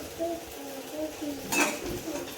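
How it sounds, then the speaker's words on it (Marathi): A lid is set on a pan while a jowar flour dosa cooks, a single short metallic clink partway through over a quiet kitchen background, with faint speech. "आपण असं झाकण ठेवू"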